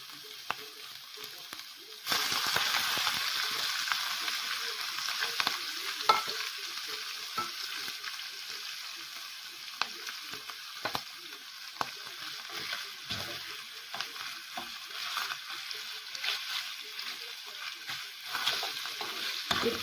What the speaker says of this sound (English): keep stirring, otherwise the water come out.